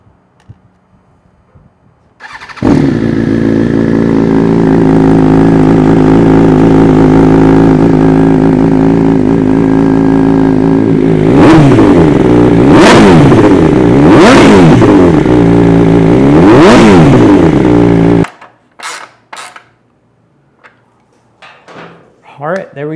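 A 2022 BMW M1000RR fitted with a clear clutch cover starts and idles loudly up close, then gives three sharp revs before cutting off, followed by a few light clattering sounds.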